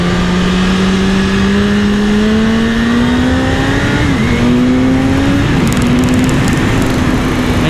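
A BMW S1000RR sport motorcycle engine drones loudly at high speed, its pitch climbing steadily through several shifts, with rushing wind underneath.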